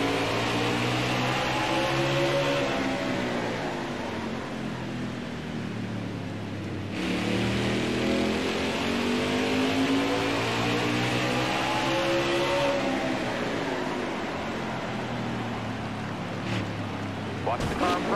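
Race car engines roar continuously in a NASCAR Cup racing video game at Martinsville, with rising and falling engine pitch as cars shift and pass. A spotter's voice talks over the engine noise.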